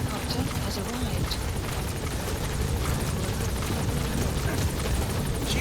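A support helicopter arrives in Metal Gear Solid 5 The Phantom Pain, its rotor chop a steady throbbing rumble that fills the whole stretch, loud and close, with radio voices talking over it.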